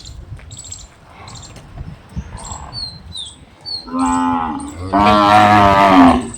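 A cow lets out two loud, drawn-out moos near the end, following quieter rustling and faint chirping insects.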